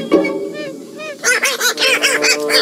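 An angry goose honking loudly and close, a harsh strained call followed by a rapid series of loud, raspy honks, with no talk over it.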